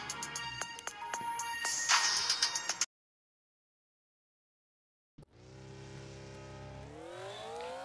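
The most powerful vehicle in the Traffic Rider video game, its engine revving and climbing in pitch as it accelerates, loud and close, cutting out briefly to silence before the rising whine resumes.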